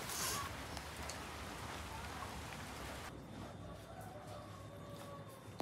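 Rain falls steadily with a faint, even hiss of drops on surfaces, soft and continuous throughout.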